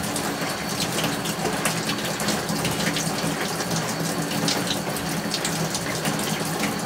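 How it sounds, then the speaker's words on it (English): Warm water poured into vermiculite and stirred in, giving a steady, close, moderately quiet wash of rushing and trickling water that runs unbroken with no voices. "I'll dump half of that cup in, and then I'll start mixing"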